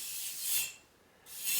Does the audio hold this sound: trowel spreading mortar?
yes